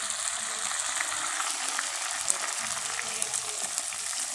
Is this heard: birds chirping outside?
no